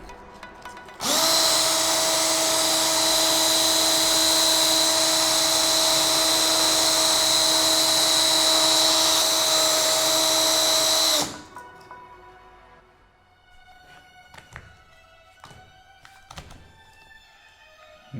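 A power drill sanding aircraft parts on a Kitfox build whirs loudly and steadily for about ten seconds, then cuts off, followed by quieter clicks, taps and handling noises.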